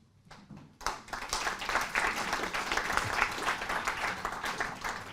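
A crowd at an Extinction Rebellion climate event bursts into loud, dense applause after a few scattered early claps. The applause swells and holds steady, close and energetic.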